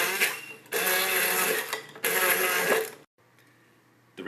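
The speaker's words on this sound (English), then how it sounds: "Hand blender to puree the tomatoes." A hand blender purees chopped tomatoes in a tall vessel, two loud whirring bursts of about a second each with a brief pause between, then the motor stops and leaves a faint hum.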